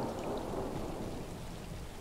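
Rainstorm ambience in the video game Stray: constant loud downpour hiss with a deep thunder rumble underneath, unbroken and alone.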